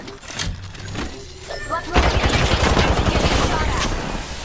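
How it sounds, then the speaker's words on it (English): Rapid automatic gunfire crackles in Apex Legends, a short burst early followed by a dense, sustained volley of shots that fills the second half, loud and close. "They're shooting at me."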